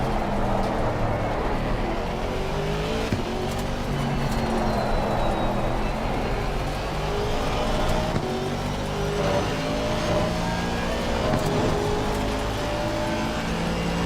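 Race car tyres scrub and whine beneath a steady, loud engine drone in the Assetto Corsa Competizione sim racing game, running on uncomfortable pressures, with sustained tonal engine sweeps throughout.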